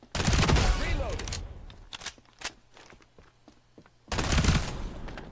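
Rapid bursts of gunfire in the video game FragPunk, loud and dense at the start, sparser single shots and clicks in the middle, then another heavy burst near the end.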